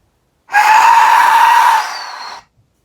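A 3D-printed Aztec death whistle blown in one long, piercing shriek, harsh and scream-like, loud and close, tapering off after about two seconds.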